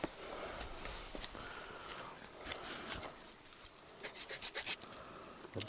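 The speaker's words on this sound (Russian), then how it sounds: "Хорошо пилит." Hand saw cutting wood at a taiga camp on a river fishing trip: rhythmic rasping strokes, close and fairly quiet, repeating back and forth with a quicker run of short strokes near the end.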